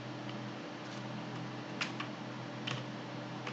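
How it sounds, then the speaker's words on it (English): Sparse, faint key clicks from a computer keyboard, a few taps spread over several seconds beneath a steady fan hum. "So here you type in D5."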